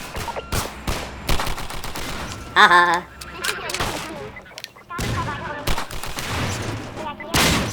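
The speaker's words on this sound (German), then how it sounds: "Kommen denn die Schüsse her?" Bursts of gunfire from the video game Half-Life 2, played on Xbox 360, crack repeatedly in rapid volleys throughout, with someone talking and laughing over the shots.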